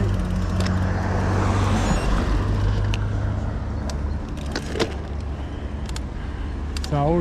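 Cars and trucks rush past on a road near Roissy-en-Brie, a loud, continuous wash of traffic noise heard up close, with a few sharp ticks and a voice briefly at the end.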